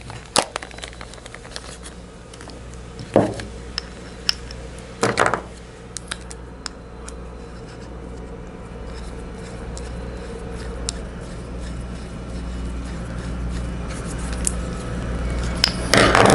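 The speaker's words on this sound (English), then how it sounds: "the last thing you need to do for the final assembly is put the hand wheel together" The hand wheel of a lathe thread cutting attachment is fitted together by hand, giving a few sharp metallic clicks and knocks over quiet workshop background, with soft handling noises toward the end.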